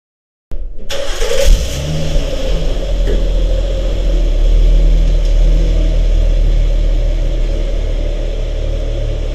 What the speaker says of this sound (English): I love that my car's already warm in the morning